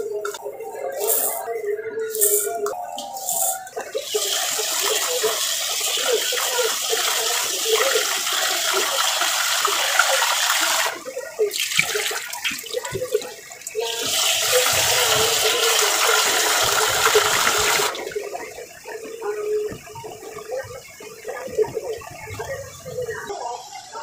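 Water runs from a tap while rice is washed for cooking in a home kitchen, a steady loud gush that stops and restarts several times over the span.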